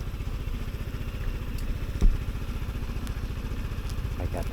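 A Vespa GTS 300 scooter's engine idles steadily close by, a low, even, pulsing putter with slight clatter and one brief knock midway.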